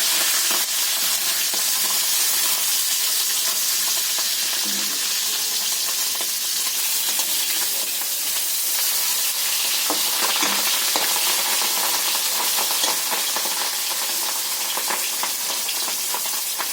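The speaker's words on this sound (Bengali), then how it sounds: "মাছটা আমার ভাজা হয়ে গেছে, এটা করেই ভেজে নিচ্ছি" Rohu fish sizzles in hot oil in a pan, a loud, unbroken frying crackle that holds steady for the whole stretch, with occasional faint clinks and stirring sounds and no talking.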